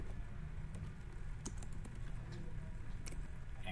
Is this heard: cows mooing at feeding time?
no